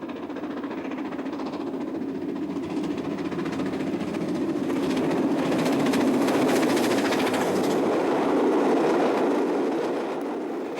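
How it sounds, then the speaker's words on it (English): Stanier Pacific steam locomotive City of Coventry, in full stride heading north with a heavy 14-coach Euston to Glasgow express, passes with a steady loud roar of wheels and rolling stock that builds and stays close throughout. "City of Coventry is well into its stride as it heads north on a heavy 14-coach Euston to Glasgow express"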